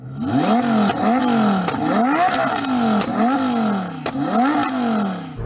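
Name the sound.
modified sports car engine revving at about 2,500 RPM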